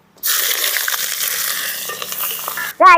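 Onions sizzle and fry steadily in a hot pan up close, a continuous crackling hiss, then a brief metallic clink at the end.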